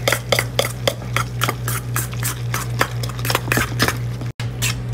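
Mayo and whipped cream cheese for smoked marlin dip mixed in a bowl, with a steady rhythm of close, clinking utensil strokes against the dish.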